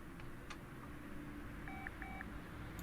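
Inside Car Mechanic Simulator 2018, a phone gives a short run of beeping tones, two paired chirps in quick succession, faint over a low steady hum of the game's garage background.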